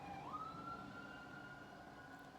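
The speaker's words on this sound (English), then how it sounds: "A couple of police cars just went by. You must have heard those." Police car siren wails past, a sustained electronic tone sweeping up and then holding steady, fairly distant over a low traffic rumble, with no talking.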